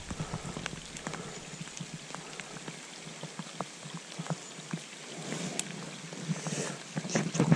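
Rain falls during bass fishing, a close, crackling patter of drops hitting water and nearby surfaces, irregular and busy, growing a bit louder toward the end.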